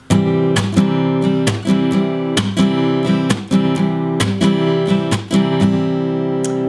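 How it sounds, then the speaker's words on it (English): Acoustic guitar strums the pattern for a song, with rhythmic down and up strokes and percussive muted chucks in a steady groove, loud and close, with no voices. "then you can move into a more complicated strumming pattern, like the one that I'm using"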